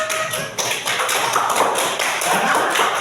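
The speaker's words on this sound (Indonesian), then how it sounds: "Yang belum dapat nilai 100 juga tepuk tangan" A classroom of students claps their hands together in a dense, steady patter of many small taps that carries on for about three seconds without a break.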